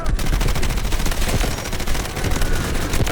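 Rapid gunfire from the Delta Force video game fills the scene, a dense, continuous stream of loud automatic shots with sharp repeated bursts throughout.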